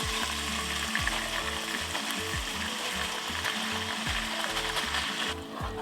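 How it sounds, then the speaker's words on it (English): Marinade juices and browned bits of beef short rib sizzle and bubble in a Dutch oven, a close, steady frying hiss broken by repeated scraping strokes of a utensil stirring the pot. "And then to the Dutch oven, I'm going to add the rest of my juices from the marinade and all the little bits and"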